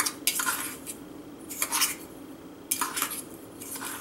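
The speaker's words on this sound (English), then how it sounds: "I've got my chia seeds, breadcrumbs, and salt mixture here, and I'm just going to mix that up a little bit better" A utensil stirs and scrapes a dry mix of chia seeds, breadcrumbs and salt in a bowl, coming in three or four quick bursts of clinking and rasping separated by short pauses.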